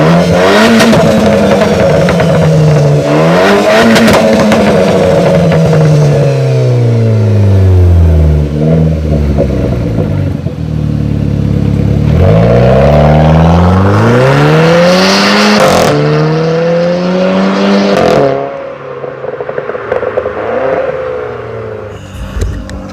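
Renault Clio 4 RS Trophy engine and exhaust rev repeatedly in long, loud climbing and falling sweeps, close and resonant, then cut back sharply near the end.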